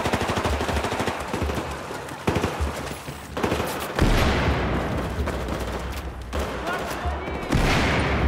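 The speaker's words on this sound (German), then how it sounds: "Keine Ahnung, wer hier gerade geschossen hat." Battlefield 4 gunfire rings out in dense bursts and rapid automatic volleys, loud and close, with heavy booming shots at intervals and faint voices mixed underneath.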